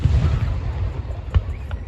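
Juneteenth fireworks go off as low, thudding booms, with one sharp burst near the end, against a constant low rumble while a person talks nearby.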